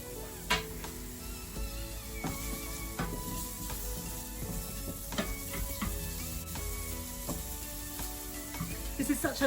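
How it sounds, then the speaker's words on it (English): Shallots and garlic fry gently in oil in a saucepan on a single caravan hob ring, a soft, steady sizzle with scattered clinks and scrapes of stirring, faint and close. "So I'm just heating the oil in the pan, ready to put in the shallots and garlic, and I'll just gently fry those for a couple of minutes"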